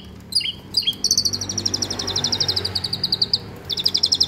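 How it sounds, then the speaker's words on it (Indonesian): An Asian pied starling sings up close: a few sharp chirps, then fast, rapid trilling phrases repeated loudly over a low background hum. "Nah ini burungnya sudah mandi tetap bunyi."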